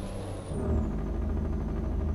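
An engine with a lopey camshaft idles, a steady, close, low rumble with an uneven pulsing beat and a faint whine fading above it.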